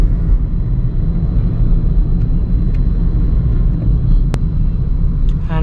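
A Maruti Suzuki Dzire BS6 petrol car driving, heard from inside as a steady low engine and road rumble with constant cabin drone, one brief sharp click partway through.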